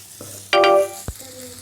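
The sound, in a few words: stirring green brinjal fry with grated coconut in oil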